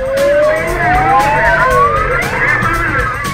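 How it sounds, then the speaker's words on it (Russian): Several police cars chase a fleeing driver, their sirens wailing and sweeping up and down in overlapping tones, loud and close with traffic rumble beneath. "За ним гнались сразу несколько полицейских машин."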